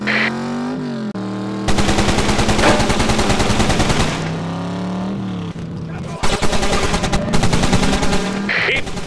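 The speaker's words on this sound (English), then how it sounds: "You take the turret. Just keep firing!" Rapid turret gunfire in the vehicle combat game RoadKill, loud sustained automatic bursts with a roaring engine underneath, pausing briefly between long volleys.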